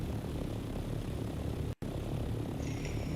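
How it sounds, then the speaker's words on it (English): A copter's aircraft engine in the Dune: Awakening video game drones as a steady, loud, continuous hum, briefly cut by a short silent gap midway. "I didn't fucking park my damn copter."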